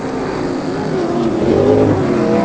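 Historic race cars, among them a yellow turbocharged Mazda RX-7, accelerate hard with a loud, close, rising engine roar and shifting revs that build steadily and stay strong to the end.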